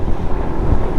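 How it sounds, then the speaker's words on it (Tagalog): Loud wind buffets the microphone in a continuous low rumble, gusting unevenly throughout the short moment, while riding a motorcycle along Diokno Highway at night. "Lakas ng hangin, no?"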